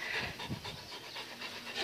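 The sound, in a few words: dog panting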